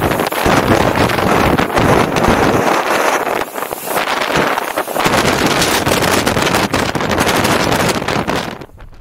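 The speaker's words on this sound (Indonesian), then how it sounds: "Bahkan ada beberapa barang kita yang terbang terbawa angin" A strong storm wind roars continuously on Gunung Kembang, loud and gusting against the microphone for the whole stretch, with no talk.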